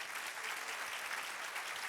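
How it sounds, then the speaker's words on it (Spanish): A church congregation applauds during a Spanish-language sermon, a steady and dense wash of clapping that holds without a break and sounds somewhat distant. "Dele un aplauso al Señor."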